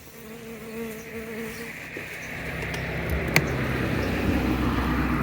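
Carniolan honeybees buzz in a steady, swelling drone while a hive is inspected after winter, close and continuous, with someone talking over them.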